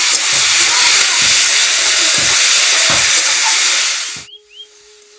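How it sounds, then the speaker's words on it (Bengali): Greens tossed into a pan of fried garlic give a loud, steady, close sizzle with a faint stirring scrape for about four seconds, then the hiss cuts off abruptly. "রসুনটা ভাজা হয়ে গেছে শাকটা দিয়ে দিলাম হালকা করে নেড়েচে নেবো"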